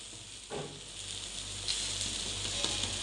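An omelette sizzles steadily in a pan while being cooked through on both sides, a close, continuous frying hiss with a few soft scrapes and no talking.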